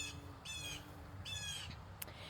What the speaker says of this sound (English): If you hear the squawking, those are blue jays.